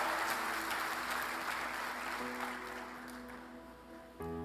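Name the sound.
church congregation applauding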